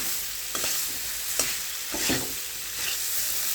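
Eggs being stir-fried with spices in a pan, a soft sizzle with a few scraping stirs of a spatula against the metal, close and steady.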